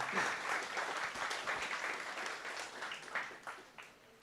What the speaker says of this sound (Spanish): Den un aplauso a Dios por la vida.